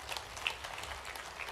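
Audience applause at a regional industry conclave in Gwalior, a steady, dense patter of many hands clapping throughout, moderately loud and without speech.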